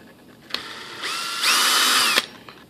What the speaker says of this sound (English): I need to drill two more holes